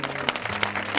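Brief applause at a village homage ceremony for the unveiling of a bust, a short burst of clapping with a few sharper claps standing out.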